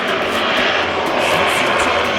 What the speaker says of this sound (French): Ils enchaînent les décollages, atterrissages, passages à basse altitude, au ras des bateaux.